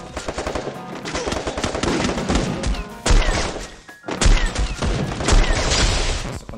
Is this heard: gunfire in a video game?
yes